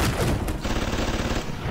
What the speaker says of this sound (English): Oh, it was a gun there.